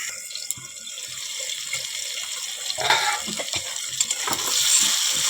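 Water poured into a pan of pumpkin, potato and fish head curry, a steady splashing stream with sizzling and clinking from the pan, close by.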